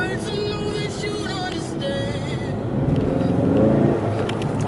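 A new Honda car accelerates with its tires briefly spinning, the engine and tire noise swelling toward the end under light background chatter.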